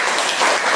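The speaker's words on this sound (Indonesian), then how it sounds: "Kita tepuk tangan dulu." An audience claps hands at an Indonesian-language teacher training session, a short dense burst of steady applause filling the whole moment.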